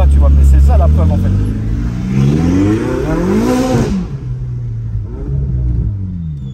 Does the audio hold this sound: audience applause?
no